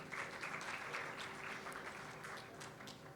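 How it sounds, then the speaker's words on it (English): An audience at a youth forum panel discussion applauds a student panelist being introduced, steady even clapping that sounds distant and faint and continues without talk. "A round of applause for him."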